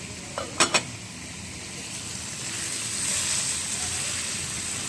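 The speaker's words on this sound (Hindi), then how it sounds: "चिकन को हम मज़ीद इसका कलर चेंज होने तक इसे ब्राउन करेंगे, इसे पकाएंगे अच्छी तरह।" Chicken pieces browning in a hot pan for pasta, a steady broadband sizzle that swells slightly midway, with a couple of short clinks of a utensil near the start.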